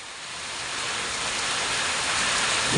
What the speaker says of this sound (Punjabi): ਬਹੁਤ ਤੇਜ਼ ਮੀਂਹ ਪੈ ਰਿਹਾ